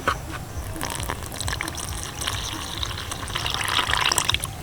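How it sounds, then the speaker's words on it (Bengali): Milk poured into a malpua batter, a steady liquid pour with gushing, splashy texture that builds slightly louder toward the end, close and alone without talk. "এবার আমি এখানে জল না ব্যবহার করে একটু দুধ দিয়ে ভালো করে থকথকে একটা ব্যাটার রেডি করে নেব"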